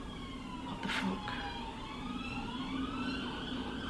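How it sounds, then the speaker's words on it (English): Sirens of two police cars wail steadily in the distance, their rising and falling tones sweeping over a low background rumble, with a brief louder burst early on. "2 police cars."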